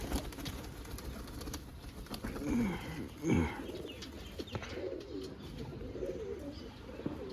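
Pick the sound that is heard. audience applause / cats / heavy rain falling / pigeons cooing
pigeons cooing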